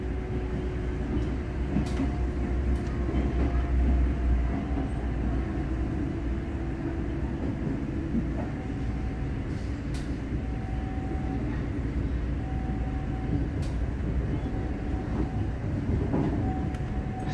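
A commuter train arrives at Bekasi station, making a steady low rumble with faint, drawn-out squeals throughout and no talking.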